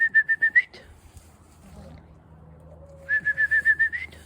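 A person whistles to call free-range chickens, two bursts of quick, rhythmic, high-pitched trilling whistles, one at the start and one near the end, separated by a quiet pause with faint background noise.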